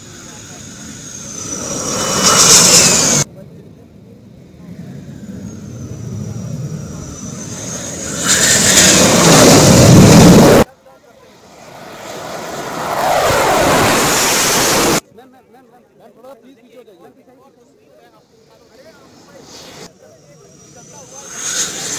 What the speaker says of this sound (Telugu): రవాణా విమానాలు, హెలికాప్టర్లు ఎక్స్ప్రెస్ వైపై దిగాయి